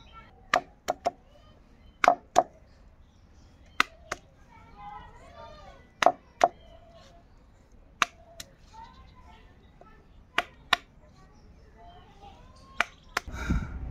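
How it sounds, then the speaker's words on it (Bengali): Jujube fruits being crushed one at a time, sharp isolated thuds and cracks spaced irregularly, with voices talking between the hits and a louder burst at the end. "এখন এই বড়ইগুলো এক একটা করে বাটতে হবে"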